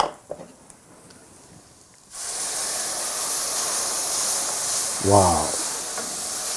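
Fresh tomatoes hitting hot cooking sauce set off a sudden steady hiss and sizzle that carries on loudly, and a voice briefly exclaims near the end.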